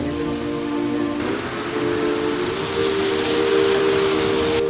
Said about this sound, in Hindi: अभी बहुत बारिश हो रहा है